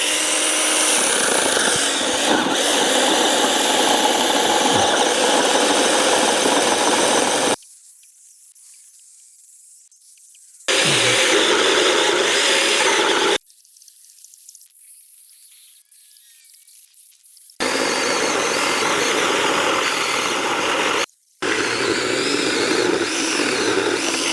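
A Grand ARC 6M/2-2 cordless mini chainsaw running on a 2 Ah battery cuts into a log in four loud, whining bursts separated by quiet pauses.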